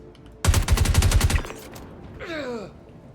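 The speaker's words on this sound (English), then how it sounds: "I'm going to get blasted by a shotgun." Rapid shotgun blasts in the Star Citizen video game fire in a loud close burst of about a dozen evenly spaced shots, followed by a whooshing, warbling effect.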